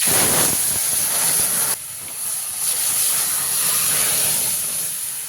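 Red lentils tipped into a hot pan of fried vegetables and papaya give a loud, steady steam-like hiss, with a sharp drop partway through before the sizzle settles into a continuous spray.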